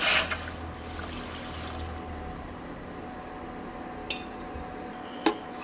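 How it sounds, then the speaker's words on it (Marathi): Milk pours into a pot with a soft splashing rush at first, settling into a quiet steady trickle, with a couple of faint metallic clinks. "पातेल्यामध्ये अगोदर दूध घालून घेऊया"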